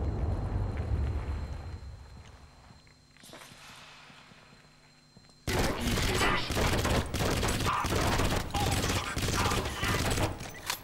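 Submachine gun fire in the video game Crysis starts partway through and carries on as dense, loud sustained bursts, following quieter ambient game sounds.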